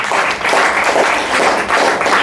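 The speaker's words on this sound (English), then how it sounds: "Clap for Jesus, somebody." A church congregation claps for Jesus during a sermon, dense continuous applause that swells and dips slightly across a couple of seconds.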